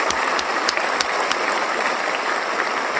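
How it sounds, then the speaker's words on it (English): A live audience at a go-go culture talk show breaks into steady applause, a dense, close wash of clapping with a few sharp individual claps standing out over three seconds. "Let's give ourselves a round of applause."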